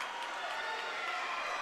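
A steady wash of distant crowd cheering echoes through an indoor pool during a college swimming meet and holds at an even level.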